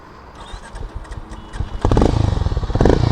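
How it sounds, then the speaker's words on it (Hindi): A Harley-Davidson X440 motorcycle starting up, with a starter whir and clatter followed by a loud, close, thumping single-cylinder exhaust idling in a steady pulse. "तो यहाँ पर सबसे पहले इसको स्टार्ट करके एक बार एग्जॉस्ट साउंड सुनते हैं।"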